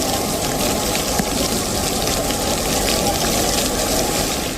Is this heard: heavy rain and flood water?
yes